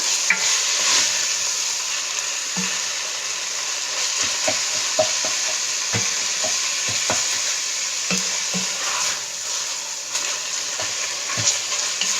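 Taco soup ingredients cook in batches in a pan, producing a constant close sizzle broken by scattered scraping and clicking as a utensil stirs, with no one talking.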